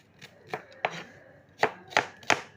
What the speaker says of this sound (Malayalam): തീരെ കനം കുറഞ്ഞു വേണം അരിയാൻ